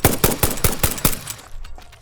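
A new weapon in the game Satisfactory fires at a spider, a rapid, evenly spaced string of about six loud, close shots that stops abruptly, followed by quieter rattles and a brief tail.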